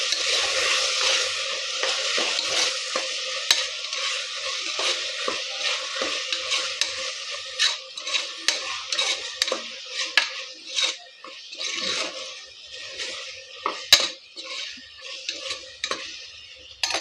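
Tomatoes and green chillies are sautéed in a pan after ginger-garlic paste for mutton kolambu, with a steady bright sizzle and repeated clinks and scrapes of a spoon stirring against the pan.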